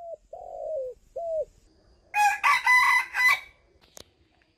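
Several low cooing calls of a spotted dove come first, then an ornamental rooster crows loudly nearby in one long, broken cock-a-doodle-doo, followed by a short sharp click, in Ba Vì, Hanoi, Vietnam.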